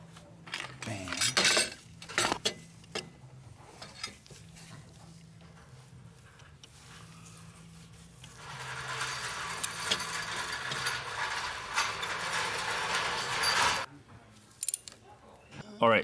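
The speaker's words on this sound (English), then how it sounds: "So let's install the new glow plug." A ratchet tightening a new glow plug in a 2008 Dodge Sprinter engine, giving sporadic metallic clicks and clinks followed by a steadier run of rapid ratcheting, close by with someone speaking at times.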